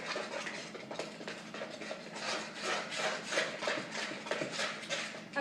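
A spoon scrapes and swishes through chocolate chip pancake batter in a bowl, a steady close rhythmic rubbing with no talk.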